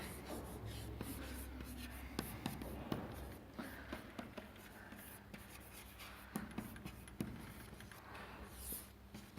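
Pen or pencil writing on paper during a lecture, a steady soft scratching and rubbing with small taps, faint and close, continuing for several seconds under a quiet room background.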